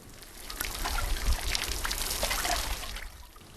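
Workers hose down ostriches with water in summer heat at an eco-park: a steady, fairly loud spray and splash of water runs continuously for a few seconds, with no one speaking.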